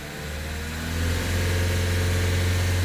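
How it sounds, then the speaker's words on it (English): A Vauxhall Vivaro van's diesel engine, being checked for a blocked DPF, rises from idle as the revs are brought up and then holds at a loud, steady higher drone. "Okay, so we're gonna bring the revs up."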